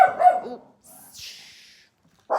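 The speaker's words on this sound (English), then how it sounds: "I'm so sorry for the loud barking." An indoor pet dog barks loudly a few times, reacting to sounds outside, followed by a short voice and a whimpering tail before another bark at the end.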